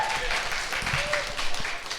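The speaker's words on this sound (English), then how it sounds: "Round of applause, please." An audience at a law enforcement leaders event applauds a panelist being introduced, steady clapping spreading through the room while a voice talks over it.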